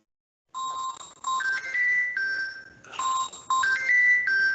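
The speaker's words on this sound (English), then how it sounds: "that's your phone ringing? Yes, that is my cell phone." A cell phone ringtone plays a bright electronic melody that repeats twice, loud and close, with no talking over it.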